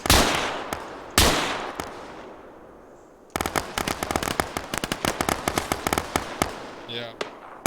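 Gunfire in the military shooter Arma 3: loud, close bursts of rapid shots and single cracks with echoing tails, sparse at first, then a dense run of repeated shots.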